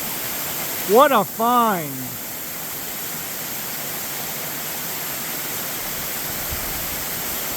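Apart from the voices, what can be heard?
waterfall with multiple drops at Aqueduct Falls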